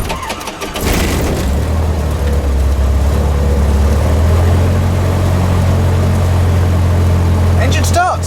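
A Cessna 150 light aircraft engine cranks and catches after a second, then settles into a loud, steady, close-up idle with a deep, even drone that runs to the end, with brief voices at the start and finish.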